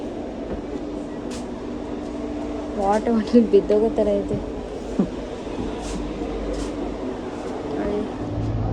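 A train stands at a railway station in Ulm, Germany, giving a steady low rumble and hum of platform ambience, with people talking over it throughout.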